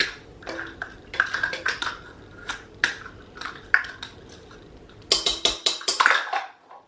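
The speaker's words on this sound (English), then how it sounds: "we want to put the shortening into the mixing bowl" Shortening scraped and dropped into a mixing bowl for chocolate chip cookie dough, giving a string of close, sharp clinks and taps against the bowl in irregular bursts with brief pauses.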